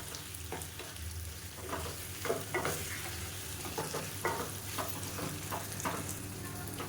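Chicken sautéing in a pan for chicken gravy, a steady crackling sizzle with scraping stirs at irregular intervals, fairly close and with no talking.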